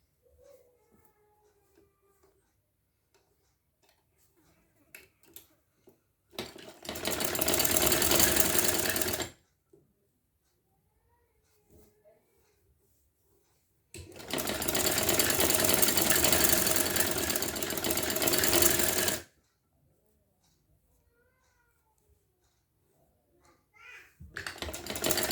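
A sewing machine stitches a sleeve in two loud, steady bursts lasting a few seconds each, separated by near silence with small handling clicks, and a third run starts at the end.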